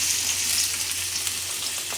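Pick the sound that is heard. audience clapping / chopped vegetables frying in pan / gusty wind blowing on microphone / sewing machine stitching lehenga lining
chopped vegetables frying in pan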